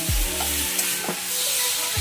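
Vegetarian vegetable dish with green chilli, ginger and sugar being stirred in a pan, a steady close sizzle with a few spoon scrapes and knocks against the pan.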